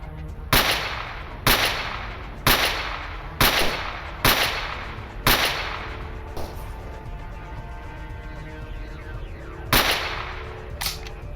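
Gunfire in the video game STALKER Anomaly: a series of sharp, loud single shots at roughly one-second intervals, then a pause with ringing echo before two more shots near the end.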